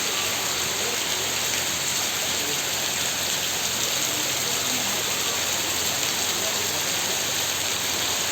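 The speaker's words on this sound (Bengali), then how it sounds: "এখানে সকাল থেকে প্রচুর বৃষ্টি হচ্ছে" Steady, dense hiss of heavy rain pouring down at Shobhonchhori, Fatikchhari, constant and close throughout with no pauses.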